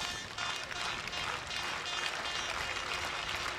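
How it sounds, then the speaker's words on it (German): Football stadium crowd at a CD Feirense versus F.C. Hansa Rostock match applauds, a broad, continuous wash of clapping from many hands, distant and even throughout. "Nun ist das Stadion noch da, alle klatschen"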